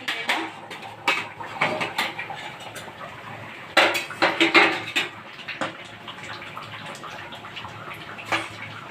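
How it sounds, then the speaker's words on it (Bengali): Boiled dal being mixed into a vegetarian banana-flower ghonto in a pan, with wet sloshing and bursts of metal spoon clatter against the pan, close by, followed by a lid clink, with no talking. "ডাল ভালো করে মিশিয়ে নিলাম, দিয়ে এবার আমি একটু চাপা দিয়ে সেদ্ধ হতে দেবো।"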